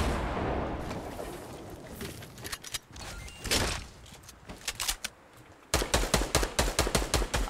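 Video game gunfire cracks out in loud, close bursts, with scattered shots giving way to a fast, rhythmic volley of rapid fire at the end.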